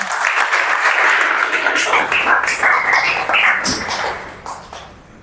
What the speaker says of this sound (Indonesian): kita beri tepuk tangan untuk Rido